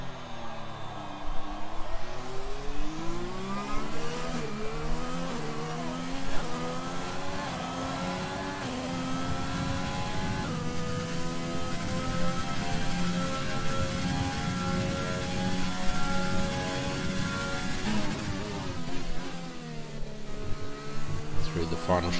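A race car engine in a sim-racing league round at Circuit Gilles Villeneuve in Canada, heard on board through a lap, whines through repeated rising and falling gear changes with downshift blips, while a commentator talks over it.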